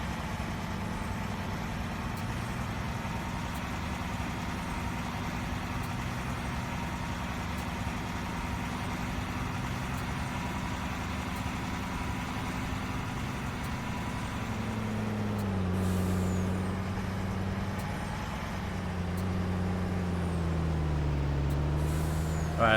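A truck in Farming Simulator 19 on a Nevada map idles and drives with a steady low engine drone, the pitch shifting and rising partway through, with no talk over it.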